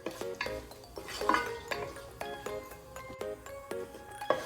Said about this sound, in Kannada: ಇದನ್ನ ಇವಾಗ ಸ್ವಲ್ಪ ಫ್ರೈ ಮಾಡ್ಕೊಳ್ಳೋಣ.